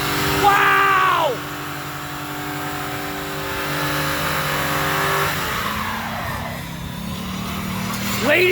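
Chevrolet Impala and Ford Crown Victoria police cars revving hard in a neutral drop, a loud sustained engine roar that surges and dips, with a sharp high rev burst at the start and a brief squeal-like rise near the end.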